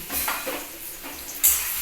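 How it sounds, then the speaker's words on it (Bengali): Nigella seeds sizzle in hot oil with garlic and onion in a pan, a short stretch of close frying hiss broken by stirring scrapes and a sharper burst near the end. "একটু কালো জিরে পোড়ন দিচ্ছি একটু কালো জিরেটা রসুন পেঁয়াজ আমি দিয়ে নিয়েছি"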